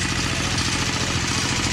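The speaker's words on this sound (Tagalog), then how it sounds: "Ayan na traktora o." A tractor engine runs steadily close by, a continuous low rumbling drone with a regular mechanical pulse throughout, no voices over it.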